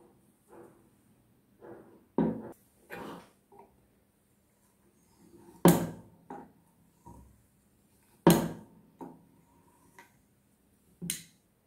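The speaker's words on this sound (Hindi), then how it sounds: "अब हम इसे साइड से इस तरह से कॉर्नर काट लेंगे" Knife cutting the corners off rolled chapati dough for shakkar para on a board, sparse sharp taps and thuds with quiet gaps between, close and without talk.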